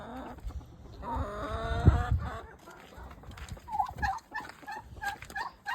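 Backyard hens in a coop, part of a small family chicken flock, give a drawn-out calling cry followed by a run of short, fairly close clucks, with no talking.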